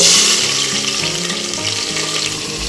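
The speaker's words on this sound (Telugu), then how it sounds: "ఇప్పుడు ఆయిల్ కూడా కాగింది, ఉల్లిపాయలు పచ్చిమిర్చి వేసేసుకుందాం." Onions and green chillies sizzle loudly in hot oil for a mutton head curry, a dense, continuous crackling fry close to the pan with no voices.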